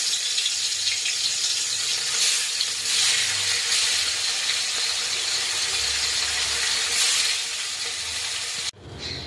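Pieces of rohu fish frying in hot oil, a loud, steady sizzling hiss close by that swells and fades slightly, then drops suddenly just before the end, with no talking.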